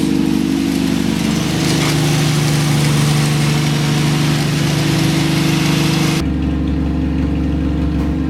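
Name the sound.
straight six engine idling at weekly start-up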